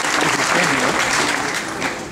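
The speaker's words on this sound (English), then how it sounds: "you can clap, I mean, this is important." An audience claps steadily through a speech about funding research into a gasoline substitute, a dense wash of applause that is loud and continuous from start to finish.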